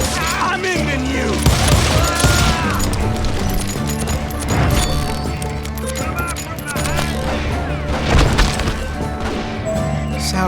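Gunfire from hired gunmen in Call of Juarez Gunslinger, a busy clatter of shots and sharp impacts mixed with splintering wood and crashes, with speech and game voices over the fight.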